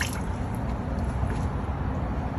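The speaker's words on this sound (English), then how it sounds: "I'm wringing out the yarn" Wet yarn wrung out by hand produces a steady wet squishing and dripping, close and continuous with no talking.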